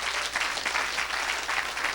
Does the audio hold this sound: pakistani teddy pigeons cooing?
no